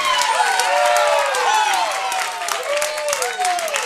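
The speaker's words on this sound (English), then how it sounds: "To the approval of the home crowd." A home crowd at a Fighting Fish baseball game cheering and applauding a called third strike, a loud, sustained wash of clapping and shouts with whistles rising and falling throughout.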